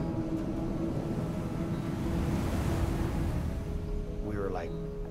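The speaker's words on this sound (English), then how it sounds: "there was a giant swell." Large ocean swell at Teahupo'o rolls in as a loud, continuous roar of surf with heavy wind buffeting the microphone, and a faint voice is heard near the end.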